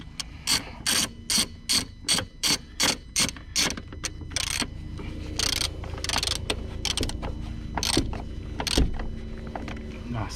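Ratchet with an extension tightening Peugeot 407 front strut bolts, a run of quick rhythmic clicking strokes in even bursts, then slower irregular ratcheting and metal handling, close up with no voices.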